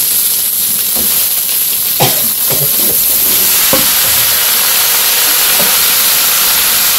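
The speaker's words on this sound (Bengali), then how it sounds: "ডাল ভাজা এখন সবজিগুলো দিয়ে নেই" Vegetables fry in a pan with bay leaf, panch phoron, green chili, fish oil and fried lentils for a village-style vegetarian dish: a loud, steady sizzle with a few sharp clanks from stirring.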